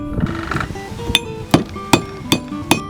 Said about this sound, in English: you can take it to the horn of your anvil and begin flattening it out